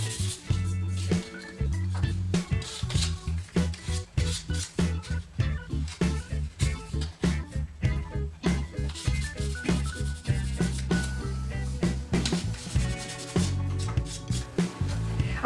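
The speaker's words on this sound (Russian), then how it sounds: "можно его шлифовать мелкой наждачной бумагой" Fine sandpaper works dried putty on a ceramic milk jug, making rhythmic back-and-forth rubbing strokes. The strokes are close and repeat steadily for about fifteen seconds, with no talking.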